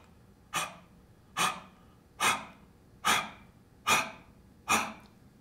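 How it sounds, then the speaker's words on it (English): Six short, forceful exhalations from a person doing a guided breathing exercise, evenly spaced about a second apart, each a close, breathy rush that fades quickly, with no talking between them. "Now breathe all the way out"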